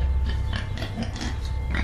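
A human voice imitating pig grunts, a rough, snorting, rasping series of low oinks close to the mic.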